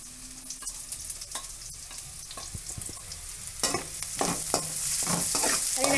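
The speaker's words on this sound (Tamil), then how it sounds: "நன்றாக வதக்கவும்." Onions, chickpeas, mustard seeds, dal, grated coconut, coriander and curry leaves being stirred and sautéed in a pan for a kondakadalai fry, with steady scraping stirs and a soft sizzle that grows louder toward the end; no talking.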